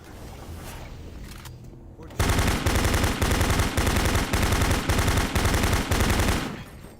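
Machine gunner enemies in the video game Doom 3 fire rapid bursts of automatic gunfire on Nightmare difficulty, loud and rhythmic after a quieter opening, with a player talking over the game audio.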